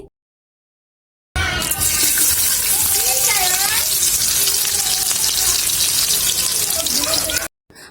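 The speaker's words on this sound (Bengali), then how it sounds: "সুন্দর করে গরম তেলের মধ্যে পেঁয়াজ কুচিগুলো ছেড়ে দিয়েছি" Chopped onion pieces fry in hot oil in a kadai for birista, a loud, steady broadband sizzle that rises abruptly after a brief silence and holds close and continuous, with faint voices underneath.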